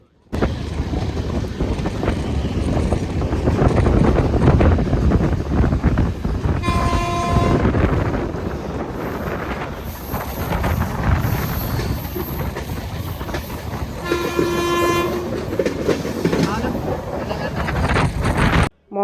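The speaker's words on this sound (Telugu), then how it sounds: "ట్రైన్ అనేది ముంపులు తిరుగుతూ చాలా వయ్యారంగా వెళ్తుంది" Passenger train en route to Sabarimala rumbling steadily along the rails, with loud continuous wheel and carriage noise and two sustained horn blasts sounding midway and again later.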